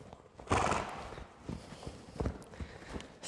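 A horse moves around a groundwork training circle, with hooves thudding and clip-clopping unevenly and close by, and a brief whinny-like sound near the start.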